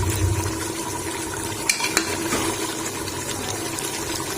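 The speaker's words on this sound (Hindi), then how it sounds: "अब इसके अंदर पानी ऐड करेंगे 2 लीटर।" Two litres of water poured into a pot of browned mutton nihari, a steady close-up splashing and pouring wash with a couple of sharp clinks partway through, no talk.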